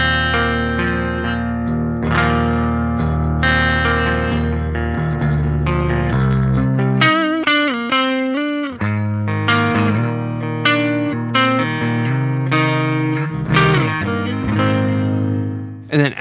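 Electric guitar played through a Tallon Electric Dual Drive pedal with its gain set low gives a fairly clean tone: sustained chords, then quicker picked notes and bends, loud and steady throughout with no talking.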